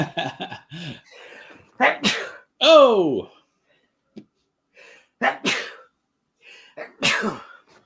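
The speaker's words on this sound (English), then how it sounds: "We had a triple sneeze." Three forceful sneezes burst out close up in quick succession, with sharp inhales and a brief spoken exclamation around them.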